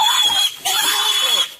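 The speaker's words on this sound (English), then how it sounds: "It did sound like a pig." A loose pig squeals loudly and shrilly in short, strained bursts with brief breaks as it is chased and caught, close and harsh.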